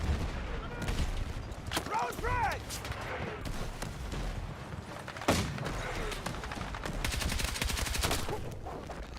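Gunfire and explosive thumps fill a Battlefield 6 match, with repeated shots, a sharp loud crack midway and a dense rattle of firing toward the end, under a player's voice.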